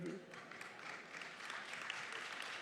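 Faint audience applause at a cybersecurity conference in Tel Aviv, a soft continuous patter of many hands heard from a distance, with a voice briefly audible at the start.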